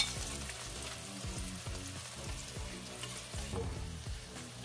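Garlic fries quietly in a pan, making a soft, continuous sizzle with a steady run of low, rhythmic bumps underneath.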